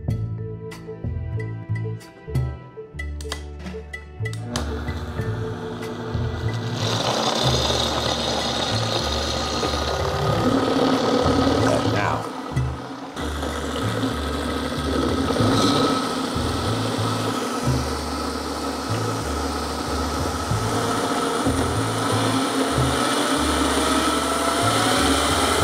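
A stainless steel Vitamix blender whirs through a thick pina colada smoothie bowl base, starting with choppy pulsing bursts before settling into a loud, steady roar that holds for most of the run.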